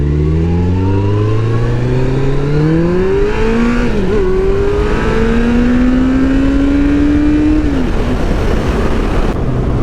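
A 2012 Kawasaki Concours 14 motorcycle engine revs up through the gears while riding, its pitch climbing smoothly, dipping at a shift and rising again under steady wind noise.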